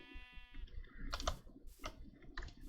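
Minecraft sheep bleat a few times, short nasal calls spaced about a second apart, faint and close, with soft clicking between them.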